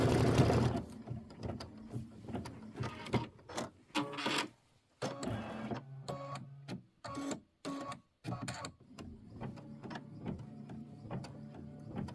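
An embroidery machine stitches a door decor design in a 5x7 hoop, its rapid mechanical whir running in repeated bursts separated by brief pauses, fairly close and steady, with no talking.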